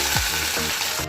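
Chopped onion frying in hot oil gives a brief, steady close-up sizzle with faint stirring scrapes.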